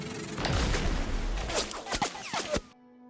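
Rifle fire from Japanese veterans shooting Shiburu rifles in a Konflikt '47 tabletop battle, as a sound effect: a scattered volley of sharp cracks with whooshes, several distinct shots in quick succession before abruptly cutting to quiet.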